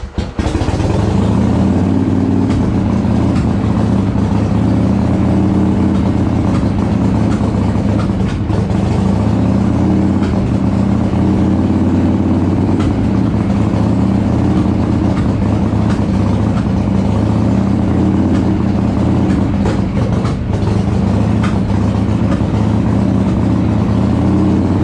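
A 1981 Harley Davidson Shovelhead Lowrider FXS-80 motorcycle engine idles steadily and loudly up close, a continuous deep rumbling throb held for the whole stretch with no voices.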